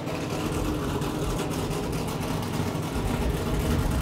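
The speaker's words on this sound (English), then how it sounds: "The sound of the cars firing up and getting ready." Race car engines idle at Kansas Speedway with a steady, dense low rumble, loud and close, holding an even roar without letting up.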